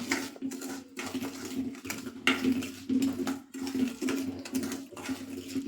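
Date pickle gets mixed with spices in a bowl, a steady close scraping and clinking of a spoon through sticky fruit, continuous with small pauses and no talk.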